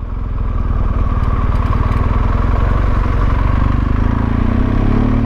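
A motorcycle climbs a steep mountain pass in first gear, its engine loud, close and steady with a continuous throbbing drone throughout and no break in the sound.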